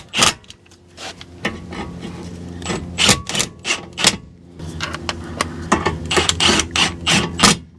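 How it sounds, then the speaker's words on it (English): An impact wrench snugs the nuts on a passenger-side CV axle of a Toyota Sienna, giving a series of short, sharp hammering rattles with brief pauses between bursts, close by. "Now I'm just gonna snug these up with the impact."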